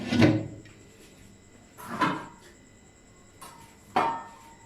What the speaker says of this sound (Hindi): ढक्कन बंद करेंगे।